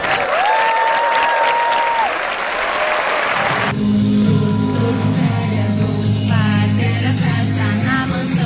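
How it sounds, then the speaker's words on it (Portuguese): Loud audience applause fills a children's show for the Gato Galáctico character, steady and continuous throughout, with music tones and crowd noise mixed in the first half and a sustained hum beneath the clapping in the second. "A todas as mamães, espírito materno, as nossas palmas"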